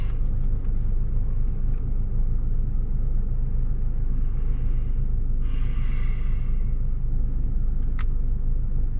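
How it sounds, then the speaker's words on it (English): A car idles to a stop at a road intersection, its steady low engine rumble filling the interior throughout, with a brief brighter hiss midway and a faint click near the end. "coming to a stop for this intersection"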